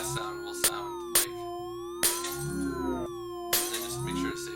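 A glass sound effect slowed to 0.8 playback rate, lowered in pitch, repeats as four sharp clinking, shattering hits over a sustained ringing musical tone, fairly loud and close.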